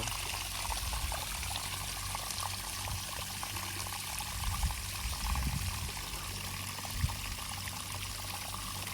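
Water spills steadily into a fish pond from a small waterfall, a soft continuous trickling wash at low level with faint splashes and no voices.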